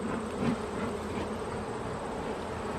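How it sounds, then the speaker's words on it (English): Honey bees swarming around an opened beehive during an inspection, a steady close buzzing hum with individual bees flitting past, no talk. "So, lots of bees."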